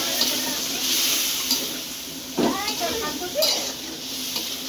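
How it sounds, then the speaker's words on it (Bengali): Spices with ground cumin, salt and ginger sautéing in a pan, a soft continuous sizzle with a few brief stirring scrapes and clinks midway. "দিয়ে এখন মশলাটাকে ভালো করে সাতলাচ্ছি।"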